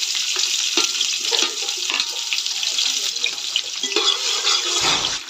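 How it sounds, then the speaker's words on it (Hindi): Chopped onion sizzling in a cup of hot ghee in a pan, a steady bright frying hiss with crackles and a few stirring scrapes, close and continuous throughout. "सबसे पहले हमने इसमें घी शामिल किया 1 कप। अब हम इसमें शामिल कर देंगे 1 अदद प्याज,"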